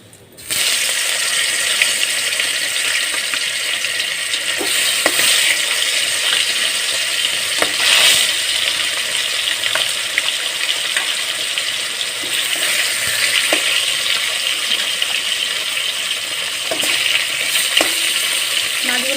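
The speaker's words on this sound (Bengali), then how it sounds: "এবার আমি মাছগুলো ভেজে নেবো" Fish frying in hot oil in a pan, a steady bright sizzle running continuously and fairly loud close up, with occasional small pops and spatters and no talk.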